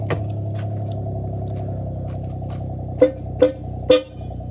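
A steady idling Suzuki kei car engine, then three short, loud honks of an aftermarket horn in quick succession near the end.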